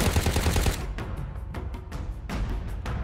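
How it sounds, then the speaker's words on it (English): A high-fire-rate SMG rattles off in the shooter game ShadowGun War Games: a continuous burst up front, then shorter spaced volleys, loud and close with no voices. "consider switching to Slade's secondary weapon, a high fire rate SMG"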